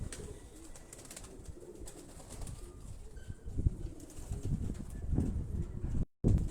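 Pigeons coo in a dense, continuous murmur outdoors, with occasional wing flaps, light knocks and a brief dropout near the end.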